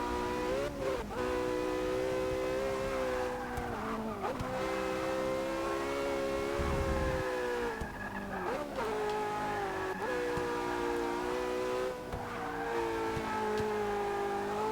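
Porsche supercar engine in Forza Motorsport 6 droning steadily at high revs while drifting, pitch dipping and rising at gear shifts and slides, loud and continuous throughout with no talk.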